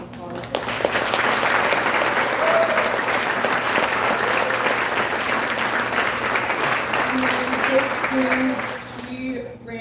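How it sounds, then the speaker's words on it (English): Sustained applause from a crowd at a sports awards banquet, steady clapping filling the room for several seconds before tapering off near the end. "I think she deserves another round of applause."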